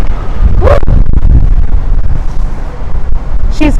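Strong wind buffets an outdoor microphone in loud, rumbling gusts, with a couple of brief higher sounds over the roar.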